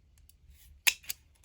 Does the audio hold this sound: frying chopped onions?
no